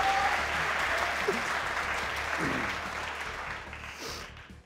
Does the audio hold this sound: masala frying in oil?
no